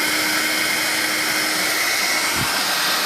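A Vax Air Cordless Lift Duo U85-ACLG-B cordless vacuum cleaner runs in standard mode on a full battery, giving a steady, loud, unbroken whooshing hiss with a faint constant whine throughout.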